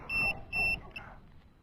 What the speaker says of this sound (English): I'm going to go ahead and power it off, so we'll see how that buzzer's working.